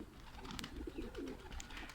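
Soft, low cooing from pigeons close by, a few murmuring calls over faint background noise.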